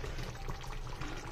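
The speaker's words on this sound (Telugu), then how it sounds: "కొంచెం హాట్ వాటర్ వేస్తున్నానండి మనకు సరిపడినంత కర్రీ కోసం." Hot water goes into a simmering broad bean seed masala curry in a pot, a soft steady pouring and bubbling wash, faint and close, with no voices.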